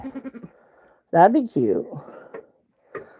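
Close goats let out a couple of loud, wavering bleats, with a voice talking softly before and after.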